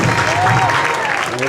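Steady applause from a crowd at a high school football senior recognition, loud and continuous throughout with a few cheers mixed in.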